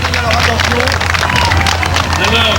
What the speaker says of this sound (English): really enjoying the applause of the crowd